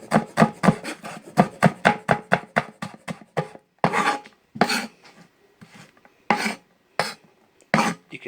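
A knife slices through an onion against a cutting board, guided along the fingers. Quick, even strokes come first, then slower and more spaced cuts, each one crisp and close with no talking.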